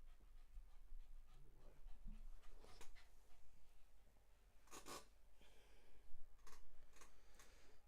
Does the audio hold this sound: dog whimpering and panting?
yes